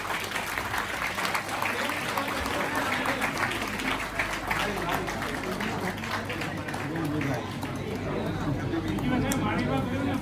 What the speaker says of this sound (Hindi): डायरेक्ट तालियां भी बजा दो पीयूष जी ने